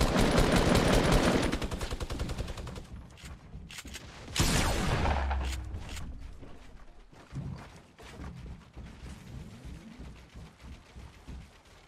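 Minigun fire in Fortnite's Playground mode: a dense, loud burst of rapid rounds that breaks off, then a heavy blast and scattered lighter shots trailing away.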